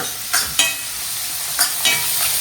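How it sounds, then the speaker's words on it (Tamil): Oil sizzles steadily in a pan while a utensil scrapes and stirs a few times, close and clear, with no talking. "எண்ணெயிலே நல்லா ஃப்ரை பண்ணிக்கணும்"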